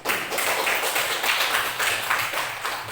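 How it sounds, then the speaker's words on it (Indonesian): A group of students claps after presentations in a class session, a continuous patter of hands that stays fairly even through a short stretch. "Tepuk tangan untuk semuanya"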